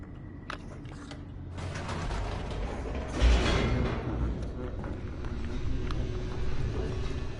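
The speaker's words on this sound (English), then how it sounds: "The elevator raced downward, plummeting towards an unknown fate." Elevator in The Stanley Parable video game descending: a loud, continuous mechanical rumble with gear and ratchet clicks and creaks, and a heavier jolt partway through.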